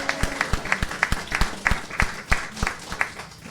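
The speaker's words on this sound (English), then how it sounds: "Everybody give a round of applause." An audience at an anniversary celebration claps in short, sharp, uneven bursts, fairly close and moderately loud, with a faint murmur of voices underneath.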